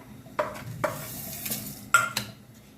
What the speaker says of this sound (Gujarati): અને કેપ્સિકમ ને હલાવી દઉં